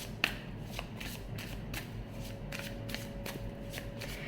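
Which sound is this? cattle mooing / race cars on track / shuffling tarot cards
shuffling tarot cards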